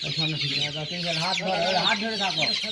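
A young 32-day-old chicken held by the wing for a pox vaccination gives close, continuous wavering clucks and squawks, loud and alone.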